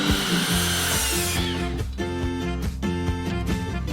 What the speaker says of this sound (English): Next, we need to cut wood for the legs